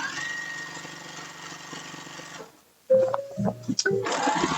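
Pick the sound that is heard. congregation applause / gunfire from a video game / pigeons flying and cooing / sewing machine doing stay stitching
sewing machine doing stay stitching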